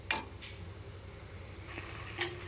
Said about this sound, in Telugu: మళ్ళీ మూత పెట్టుకుని ఒక టెన్ మినిట్స్ అలా ఫ్రై అవనిద్దాం